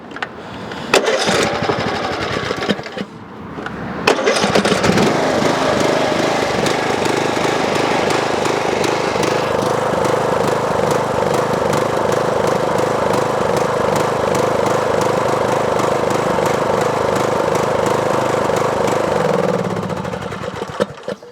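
A 20HP Briggs & Stratton engine on an Ariens lawn tractor, one that surges, sputters briefly and then settles into a loud, steady, close-up running drone that holds for about fifteen seconds before dropping off.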